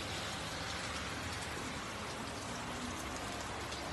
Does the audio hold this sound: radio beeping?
no